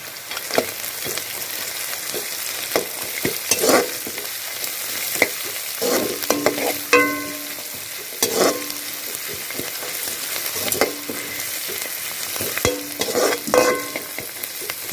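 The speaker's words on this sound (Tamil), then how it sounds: "இது கூடவே ஒரு 50 கிராம் முந்திரி பருப்பு, இதையும் போட்டுங்க." Cashews frying in a pan with onions and chillies for capsicum rice, with a steady sizzle and bright clinks and scrapes from the spoon stirring at irregular intervals.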